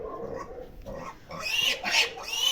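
Young boar piglets on a village farm squeal in sharp, high, shrill bursts that grow louder and more frantic toward the end, close by, with no talking.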